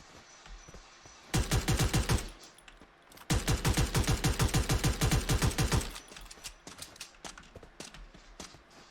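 Automatic-weapon fire in the mobile shooter game Free Fire comes as two long, loud rapid-fire bursts of evenly spaced shots, followed by a few scattered quieter single reports.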